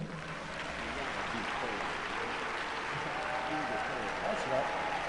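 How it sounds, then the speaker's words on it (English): Audience applause for a pastor being welcomed to the podium at a church service, a steady dense clapping that fills the whole stretch at moderate level, with faint voices mixed in. "Please give a big warm round of applause for Reverend Wendell Anthony."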